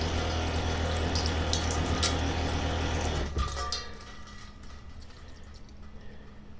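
Water pump at a tiny house sink in a solar-powered home hums steadily with running water, then cuts off about halfway through, leaving quieter background noise.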